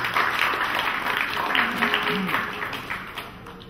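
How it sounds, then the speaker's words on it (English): Audience applause in a hall for a volunteer, a steady wash of many hands clapping at moderate distance, tapering off toward the end with faint voices mixed in. "Let's give God a nice round of applause."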